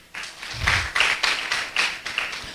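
A small group claps in a quick, uneven rhythm, a handful of sharp bursts of applause with no voices.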